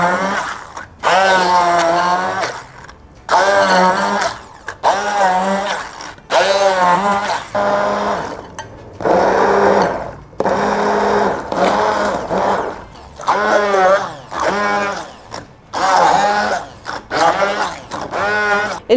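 Electric blender whirring fruit with lemon juice and a spoonful of honey, running in repeated loud pulses of about a second each, separated by brief pauses, the motor pitch wavering as the mixture churns.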